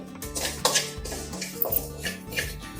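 Dry cumin seeds being roasted and stirred in a pan for bhajani chakli flour, with repeated scraping and clinking of a spoon against the metal pan, clear and close, no talking.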